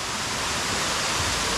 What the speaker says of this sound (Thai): จะมีน้ำตกลงมาสูงพอสมควร